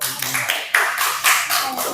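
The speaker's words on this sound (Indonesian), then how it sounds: "Tepuk tangan untuk kelompok 2." A class claps for a student group, a short burst of a few pulsing waves of hand claps from a small room of people.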